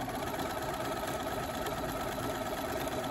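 A sewing machine runs steadily while stitching a satin stitch on a fabric postcard, a faint, even mechanical whir with no pauses.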